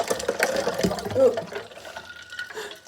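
Water pouring into a container at home, a soft gurgling splash that runs for about a second and then fades, with a little faint background noise.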